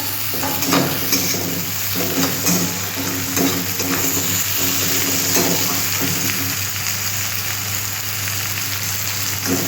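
Onions, green chillies and tomatoes fry in a pan as the base for a river mourola fish curry, giving a steady, close sizzle with intermittent stirring scrapes and no talking.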